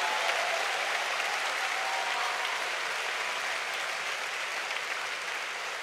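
Congregation clapping hands during a worship service, steady dense applause that continues without letup, loud and close, filling the whole stretch with no talk over it.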